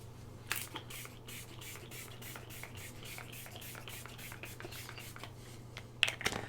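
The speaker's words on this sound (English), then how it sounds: "There's like nothing that feels as good as spraying a fine mist onto your face." A quick series of soft spritzes from a mist spray bottle, close and fairly evenly paced, ending with a couple of sharper, louder bursts.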